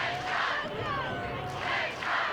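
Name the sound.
Mesa baseball crowd cheering on the Rams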